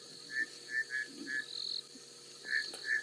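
Bushveld rain frogs give short, high chirping calls, about eight spaced through a few seconds in quiet night air, faint and a little distant, with no voices.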